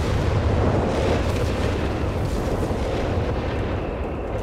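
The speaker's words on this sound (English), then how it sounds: "the Nebelwerfer's landing more direct hits on the mortar emplacements" Nebelwerfer rockets exploding in the Company of Heroes 3 video game, a dense loud rumble of overlapping blasts and booms that rolls on without a break and fades slightly at the end.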